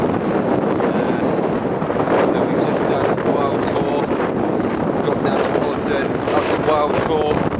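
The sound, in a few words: gale force wind on Dartmoor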